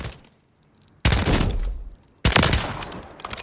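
Two loud, close bursts from the AMR9 in Call of Duty Modern Warfare III, each a rapid string of shots ringing out after a quiet gap, with the second burst following about a second after the first.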